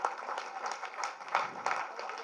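Audience applause at a general body meeting of an insurance employees' association in Hyderabad, a steady spread of clapping from a crowded hall, moderately loud and continuous with a few sharper bursts.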